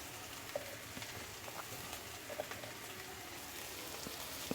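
Dried fish (shutki) fries quietly in a pan, a soft, even sizzle with scattered small pops and crackles, close but low in level, with no talking.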